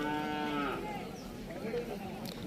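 Cattle lowing at the Siddaganga cattle fair among many gathered bulls, one long loud moo up close, then a murmur of the crowd and distant animals.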